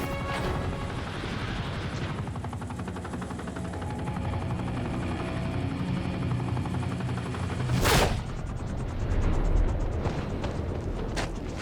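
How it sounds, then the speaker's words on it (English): A helicopter sets down in a video game scene, its steady rotor thrum filling the mix alongside bursts of gunfire and a sharp blast near the eighth second. "A chopper has landed to take away the president"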